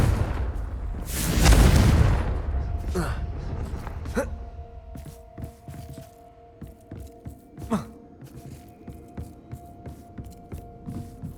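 A Confringo blasting spell explodes in Hogwarts Legacy: one loud, deep boom early on, then a lingering low hum with scattered sharp cracks and impacts that thin out over the following seconds.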